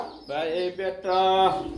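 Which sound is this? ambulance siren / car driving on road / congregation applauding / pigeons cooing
pigeons cooing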